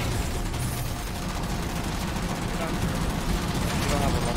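Sustained MG42 machine gun fire in a video game, a loud, unbroken rattle of rapid shots with battle noise filling the whole stretch.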